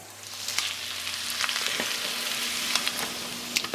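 Steak beef sizzles in an oiled pan with a steady crackling hiss, spattering pops scattered throughout, close and alone without talk.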